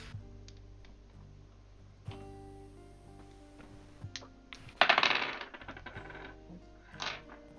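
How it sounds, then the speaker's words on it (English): Dice clatter during a tabletop Dungeons & Dragons session, faint clicks and taps leading to one sharp rattling tumble across a surface, then a smaller knock, close and quiet. "I wanna roll the dice"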